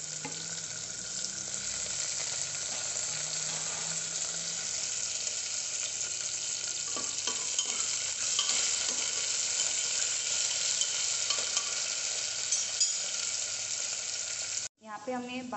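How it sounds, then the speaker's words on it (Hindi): Vegetables fry in hot oil inside a pressure cooker while Jain Brinji rice is made, a loud steady sizzle with stirring scrapes running throughout, cut by a brief clatter near the end. "ऑयल गर्म हो चुका है, अभी हम इसमें वेजिटेबल्स डाल देंगे।"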